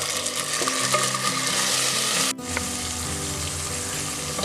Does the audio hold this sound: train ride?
no